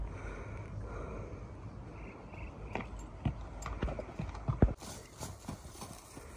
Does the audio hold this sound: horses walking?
yes